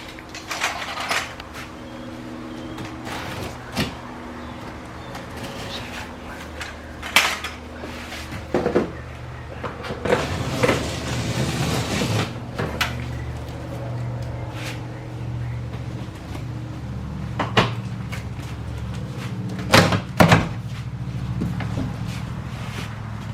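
A Himiway e-bike comes out of its cardboard shipping box, with intermittent clattering, knocking and metallic rattling from parts being handled, spread across a fairly steady background.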